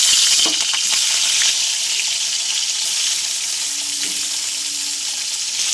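Nigella seeds and green chillies hit hot oil left from frying brinjals, setting off a loud, bright, continuous crackling sizzle close up that fades only slightly over the span.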